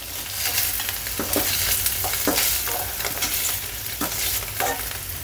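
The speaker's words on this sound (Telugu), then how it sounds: "సో పన్నీర్ మనకి వేగిపోయింది." Paneer cubes sizzle steadily in hot oil in a pan while a spatula stirs and scrapes them at a regular pace. The frying is loud, close and continuous, with no talking.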